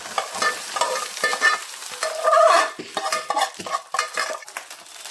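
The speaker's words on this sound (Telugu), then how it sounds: "రైస్ వేసుకున్న తర్వాత కలిపేసేయండి మొత్తం." Rice stirred into hot oil in a pan, with sizzling crackle and scraping metal utensil strokes against the pan in uneven bursts, close and fairly loud, no speech.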